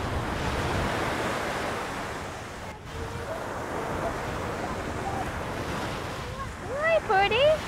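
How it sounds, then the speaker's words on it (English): Ocean waves wash steadily onto a beach under gusty wind noise, with a continuous surf roar throughout and a voice briefly audible near the end. "Pero ang tunog ng dagat ay napakaganda."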